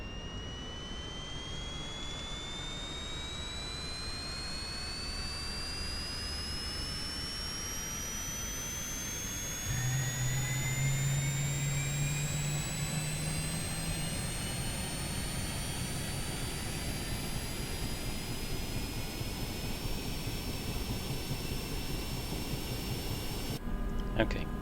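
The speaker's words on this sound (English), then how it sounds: "So let me just go into the helicopter then. Battery and engine master" A helicopter engine starting up in Microsoft Flight Simulator 2024, a CowanSim model: a steady loud turbine roar with rising whining tones that climb throughout and grow heavier partway through, continuous and close.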